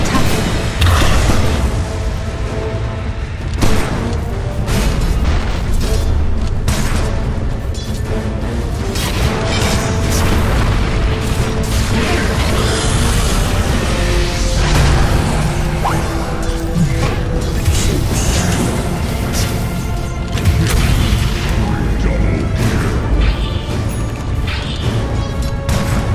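Towers under attack in the video game Dota 2: dense, loud game audio packed with explosions, crashes, whooshes and impacts that overlap without pause, along with a game announcer voice.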